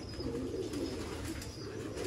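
Pigeons on a rooftop loft cooing in low, soft repeated murmurs, steady and fairly close, with a faint higher bird call over the ongoing coos.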